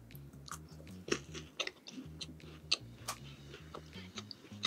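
Homerun Ball snack puffs being bitten and chewed up close, soft irregular crunches and mouth sounds over a faint rhythmic ticking in the background, with no talking.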